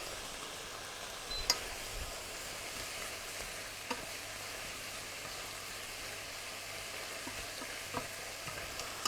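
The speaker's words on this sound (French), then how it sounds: "je suis en train d'attendre que mes légumes cuisent" Vegetables for jjajangmyeon sizzle in a hot pan, a steady crackling fry with a few soft clicks of stirring, close and even throughout with no speech.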